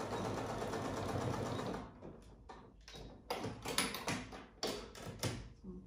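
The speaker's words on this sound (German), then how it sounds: "Einfach einmal drüber nähen" A sewing machine stitches belt loops onto a coat, first as a steady continuous run, then breaking into short bursts of stitching separated by pauses, close and fairly quiet with no talk.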